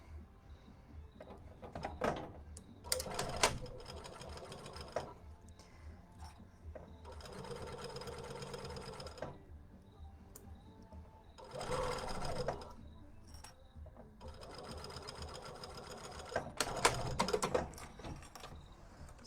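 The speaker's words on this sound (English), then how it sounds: "we're going to sew our zipper down" An automated sewing machine with automatic tacking and auto cut sews down a zipper, running in several steady bursts with pauses between them, close and moderately loud, with faint talk in the background.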